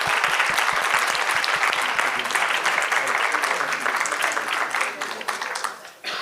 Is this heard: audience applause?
yes